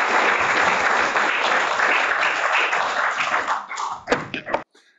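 A seminar audience in Brenham applauds steadily to welcome a speaker, a dense wash of clapping that thins into a few last claps before it stops abruptly.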